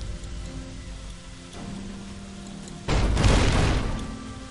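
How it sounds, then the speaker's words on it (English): Grenade explosions in Fallout New Vegas, a loud dull blast about three seconds in that rumbles and fades, following a quieter low thud earlier over steady game ambience. "Now let's watch them throw their grenades."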